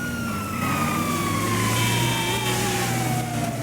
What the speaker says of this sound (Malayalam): ഇതിപ്പോ സൈറൺ ഉണ്ടല്ലോ ഓൾറെഡി